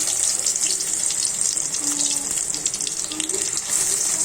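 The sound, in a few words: stuffed ash gourd slices frying in oil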